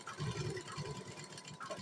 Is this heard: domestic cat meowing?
no